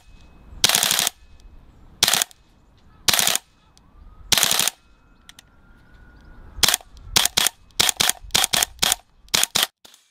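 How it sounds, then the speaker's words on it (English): A GBLS DAS GDR 15 electric blowback airsoft gun fires loud, sharp, metallic shots: a few spaced single shots, then a quicker run of rapid bursts close up. "The sound is loud and metallic. It has a resonance that separates it from the typical whining sewing machines that dominate the airsoft world."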